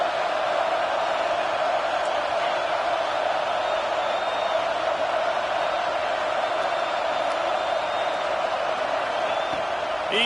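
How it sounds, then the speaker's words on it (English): A stadium crowd cheers for the defense at a football game, producing a steady, dense roar that holds at an even level throughout with no break. "Big third down as the crowd gets behind this defense."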